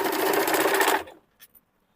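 A sewing machine runs steadily for about a second, stitching the side seam of a kurti, then stops; a couple of faint small clicks follow in the quiet.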